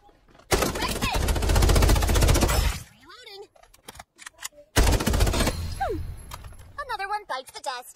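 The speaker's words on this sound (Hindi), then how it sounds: "अरे गोलियां पड़ रही मेरे को।" Rapid automatic gunfire in the battle royale game Farlight 84, two long loud sustained bursts of rattling shots separated by a brief lull with scattered single pops, and someone talking excitedly in between.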